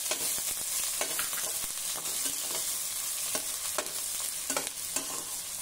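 Steady frying of dried red chilies, fenugreek seeds and onions in hot oil tempering, a constant sizzle broken by repeated stirring clicks and scrapes close by.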